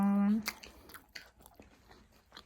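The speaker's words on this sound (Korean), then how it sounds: "저는 마이 페이보릿 치즈 맛을 먹습니다" Someone bites and chews a cheese-flavored snack up close, a brief voiced sound at the start giving way to several crunchy bites.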